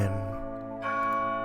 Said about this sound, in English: As the bell's last pealing faded into silence